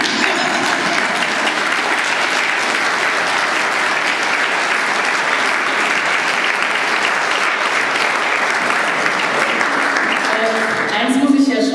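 A large audience applauding at a German storytelling and song event, a dense, steady wash of clapping that holds evenly for about eleven seconds before tapering off at the end.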